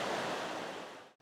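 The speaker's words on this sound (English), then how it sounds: "Water is flowing strong." Strongly flowing water swollen by heavy overnight rain beside a hotel, a steady, loud broadband rush that holds constant before cutting off abruptly near the end.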